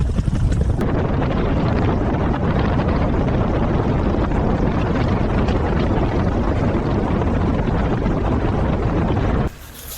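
A helicopter lifts the fuselage of a Messerschmitt Bf 109 G-6 warbird, a loud, close, constant rotor roar and thrum filling the scene almost without pause.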